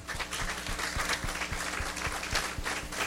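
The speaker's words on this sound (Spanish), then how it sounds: "dale un aplauso al Señor" A church congregation clapping during a Spanish-language Mother's Day service, a moderate crowd applause backed by a steady rhythmic thump like a beat or footfalls running underneath.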